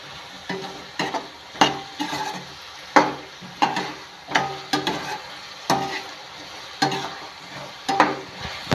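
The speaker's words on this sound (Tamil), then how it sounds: "எண்ணெயிலே பொரிஞ்சிட்டு இருந்தது, இப்போ சவுண்டு வருது" Potato stir-fry sizzles in hot oil while a utensil stirs and scrapes the pan in repeated loud strokes, roughly one every second.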